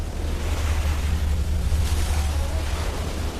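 Pacific Ocean waves along Fiji's coastline at high tide, heard as a steady, broad roar of surf with heavy low rumble and some wind buffeting, continuous and fairly loud throughout.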